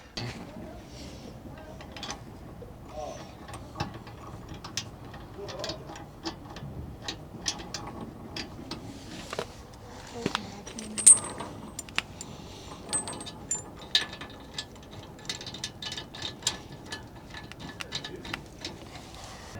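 Safety chains being fastened onto a 50mm tow ball and DO35 hitch while hitching a Jayco caravan: scattered metallic clicks, clinks and rattles at close range, irregular and fairly quiet throughout.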